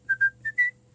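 A person whistles four short, bright notes in quick succession, with a slight upward bend on the last, clear and close in a quiet room.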